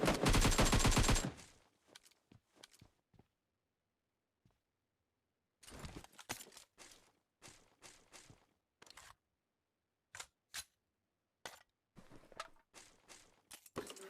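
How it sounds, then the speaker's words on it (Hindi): PUBG gunfire with a dense automatic burst at the start, then scattered single shots and short bursts, some distant, separated by near silence with occasional footstep-like clicks, loud and without talk. "यहाँ से लूट कर मुझे गन के साउंड आते हैं"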